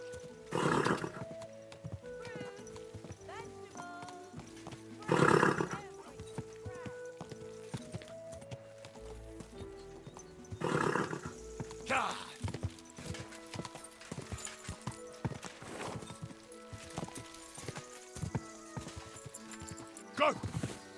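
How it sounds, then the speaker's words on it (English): A horse in a medieval video game neighs loudly several times over steady clip-clopping hooves and background music, the whinnies standing out in bursts. "Easy, good horse."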